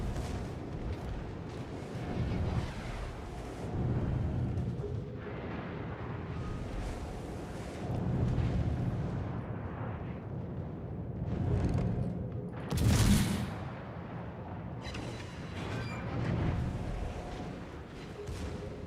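Naval gunfire and explosions in World of Warships, deep rolling booms arriving every few seconds over a low rumbling bed, with one sharper, louder blast near the end.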